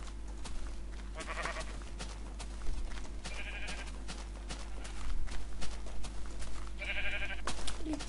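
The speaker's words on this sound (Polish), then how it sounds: "Dzika owco." Sheep in the video game Minecraft bleat in three short, separate calls over a steady low background hum, with faint clicking footsteps between them.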